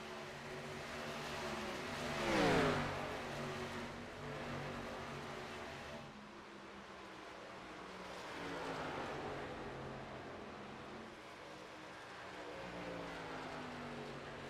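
Race car engines roar in a racing video game at Michigan International Speedway, with a continuous droning whine whose pitch sweeps up and down as cars pass, and one louder surge early on.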